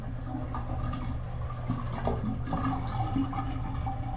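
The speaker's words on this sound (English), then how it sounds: "the water is going down." Water drains from a bathtub with a continuous low gurgling and trickling, plus occasional small splashes and drips, all steady and close by.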